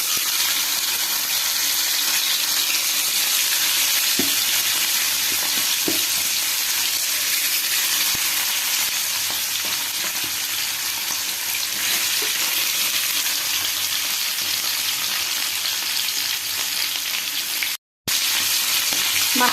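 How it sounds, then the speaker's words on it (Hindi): Hilsa fish fries in hot mustard oil, a loud, continuous crackling sizzle with occasional faint clinks of a utensil and a brief drop-out near the end. "कड़े रे सोरिष तेल को गरम करिबा और माछ को पकाई फ्राई करिबा।"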